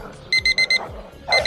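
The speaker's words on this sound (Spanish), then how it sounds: "el señor seguramente que arranca el día y le timbra el despertador" An alarm clock beeps loud and close in a quick run of four shrill pulses, pauses briefly, then starts another burst.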